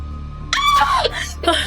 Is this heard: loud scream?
yes